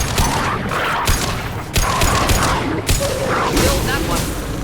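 Gunfire in Mass Effect 2, loud sharp shots and booming blasts in irregular clusters with short gaps, mixed with combat noise and a voice talking over it.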